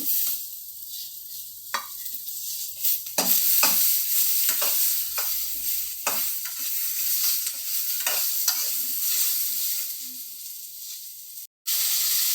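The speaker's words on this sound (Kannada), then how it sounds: "ಇವಾಗ ಟೊಮೆಟೊ ಹಾಕೋಣ" Tomatoes go into a hot frying pan for a sprouted-bean gravy, giving a loud hissing sizzle with repeated stirring scrapes, close up, before a brief cut near the end.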